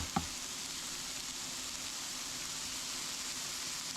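Steak frying in a pan, a steady, loud broadband sizzle that holds evenly throughout, with one brief knock right at the start and no speech.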